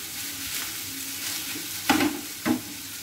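Fish for kebabs is stirred continuously in a pan over medium heat, a steady sizzle broken by two louder scraping strokes near the end.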